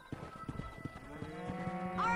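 Cattle low and shuffle nearby with hoof clatter, ending in a louder moo, set against the ambient backdrop of the game Red Dead Redemption with no talking.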